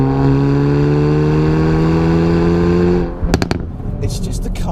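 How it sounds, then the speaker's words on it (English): A Hyundai i30 N engine drones steadily, then a rapid burst of sharp exhaust pops and bangs crackles out loudly near the end. "Sounds absolutely marvellous, as you can probably hear from all these pops and bangs."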